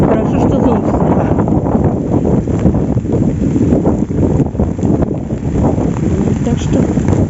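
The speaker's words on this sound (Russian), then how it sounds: "Ну, сильный ветер." Strong wind gusting on a rainy autumn day in Moscow, a steady loud roar buffeting the microphone throughout, with someone talking over it.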